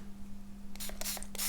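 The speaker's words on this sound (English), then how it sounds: "I'm going to spray it just slightly to warm it up a little bit more" A small spray bottle of watercolour paint fires several quick, close hissing bursts in a row over a steady low electrical hum.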